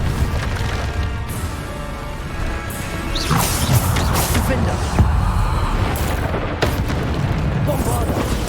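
A Bombarda spell blast in Hogwarts Legacy lands as a loud booming explosion over a dense, continuous rumble of game combat effects that runs the whole stretch.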